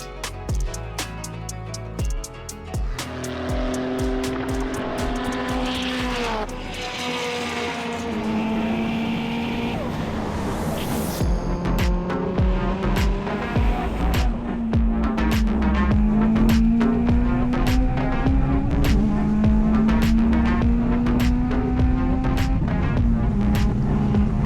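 A race car laps Watkins Glen during a GRIDLIFE time attack event, its engine droning loudly and steadily with rising and falling pitch through gear changes, heard close from onboard with wind rush and sharp transient clicks.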